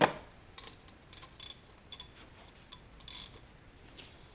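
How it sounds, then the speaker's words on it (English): Mechanical clicks and ratcheting taps from a big nut being turned on a 1966 Ford Galaxie 500 power steering unit during a rebuild, faint and sparse, with a few brief scrapes spread over several seconds. "So now you hold this and turn the big nut."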